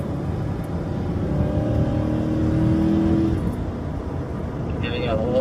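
A Corvette C8 ZR1 accelerating hard on a race track, heard from inside the car: a loud, steady engine roar with rising whine tones, under continuous talking.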